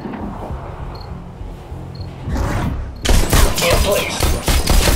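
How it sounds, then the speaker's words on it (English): Gunfire at targets in the VR game Bullet Train on Oculus Rift with Touch, a few soft thuds and clicks at first, then a loud burst of rapid shots in the final seconds. "Now, try to shoot the targets as they appear."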